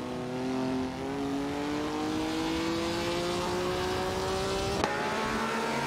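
Video game race cars, including a 1968 Pontiac Bonneville and a Lamborghini 400 GT, engines droning loud and steady with rising pitch as they accelerate, a brief sharp knock near the end.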